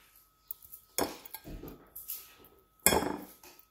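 A spoon mixing samosa stuffing in a bowl, with scraping, clattering strokes in two bursts separated by a short pause, close and fairly loud with no voices.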